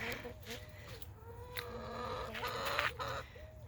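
Chickens cluck softly in a garden with euphorbia plants, repeated short calls that stay faint against background noise, some voices in the distance.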